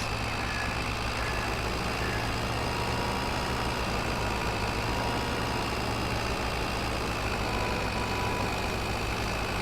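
A tractor engine from Farming Simulator 22 drones steadily throughout, a continuous heavy low rumble like idling, close and loud with no talk.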